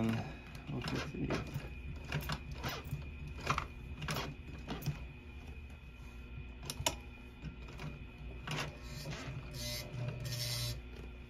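A sewing machine stitches vinyl seat upholstery for a custom lowrider, giving repeated quick mechanical bursts of rapid needle clatter with short pauses between runs, moderately quiet and close.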